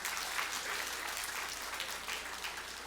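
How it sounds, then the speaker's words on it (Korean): Audience at a district New Year greeting ceremony applauding, a faint, distant, steady wash of many hands clapping with no voices over it. "박수 한번 쳐주십시오"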